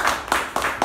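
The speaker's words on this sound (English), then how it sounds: "I use round of applause." A few quick, evenly spaced hand claps ring out close by at a meeting, brief and crisp with no voices.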